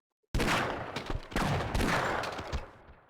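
A burst of rapid gunfire erupts in Half-Life after a moment of silence, several loud overlapping shots cracking in quick succession before tailing off.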